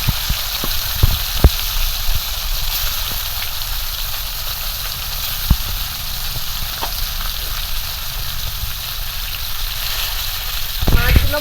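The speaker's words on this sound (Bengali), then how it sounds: "মধ্যে তেল দিয়ে দেবো প্রথমে মাছগুলো ভেজে নেবো" Small fish fry in hot oil with a steady, bright sizzle, punctuated by sharp pops and spatters, close to the listener and heard alone.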